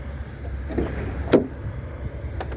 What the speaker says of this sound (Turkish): Ön iki cam otomatik gördüğünüz gibi.